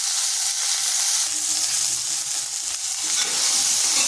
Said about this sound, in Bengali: এইভাবে নেড়ে চেড়ে এগুলোকে একটু ভেজে নিতে হবে।